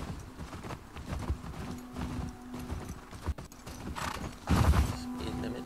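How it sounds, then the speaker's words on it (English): Horse hooves clip-clop steadily in The Last of Us Part 2, a close, even walking rhythm with creaking tack, a brief whinny-like swell near the end, and a low ambient hum beneath. "Clip clop, onward."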